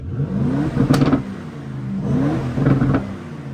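An Aston Martin DB12 with stock exhaust, particulate filter, catalytic converters and back box, revs twice in quick succession, rising and falling with a throaty exhaust note, close and loud.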